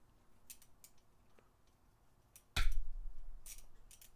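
A Koken Z-EAL 3/8-inch (9.5 mm) square-drive ratchet handle, 7 inches long, gives a few sparse, sharp clicks, then a louder scraping burst with a low rumble partway through, followed by more scattered ticks.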